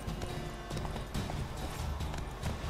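A horse gallops in The Witcher 3 video game, its hoofbeats thudding in a quick, uneven rhythm that sounds close and fairly loud over a busy background, with no talking.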